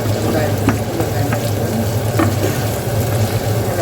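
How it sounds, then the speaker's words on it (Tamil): Vegetables sauté in butter with mustard and cumin seeds for a Jaffna-style egg curry, a loud, steady, close sizzle with a few faint stirring clicks. "ப்ரௌனாக வதங்கி வரும் வரையும் வதக்குவோம்"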